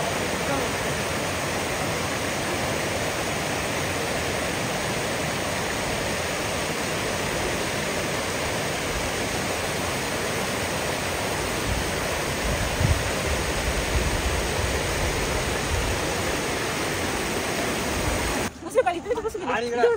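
Pahine waterfall in a nature setting, a steady broadband roar of falling water running continuously and fairly close, with a brief burst of handling noise near the end.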